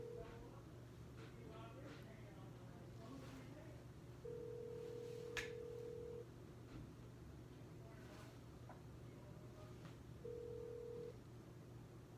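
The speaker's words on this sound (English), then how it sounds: "After 5 rings, I hang up" A telephone rings on an outgoing call, two separate steady tones heard faintly down the line over a constant low hum, with a person speaking quietly between them.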